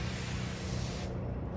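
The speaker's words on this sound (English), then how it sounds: "these additional sprayer heads do a great job of fogging a very fine mist" A Valemo VF ES100 cordless electrostatic backpack sprayer fogs a very fine mist with a loud, steady, close hiss. The sharp top of the spray cuts off near the end, leaving a softer airy rush.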